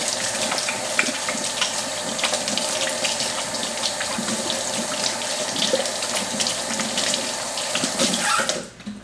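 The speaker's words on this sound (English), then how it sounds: "let me wash my hands" A kitchen tap runs steadily as hands are washed beneath it, a continuous close splashing hiss of water that cuts off near the end.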